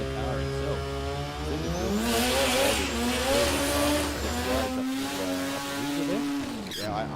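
A rotary-engined race car at a state championship circuit meeting howls past with a high, buzzing engine note that rises and falls, while trackside commentators talk over it.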